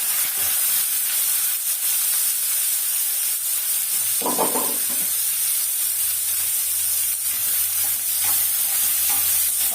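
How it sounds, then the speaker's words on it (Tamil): Onions sauté in hot oil with curry leaves and fennel seeds for a chicken curry, a steady close sizzle and hiss throughout, with a brief scraping stir midway and no talking. "வெங்காயம் கொஞ்சம் நல்லா வதங்கணும்."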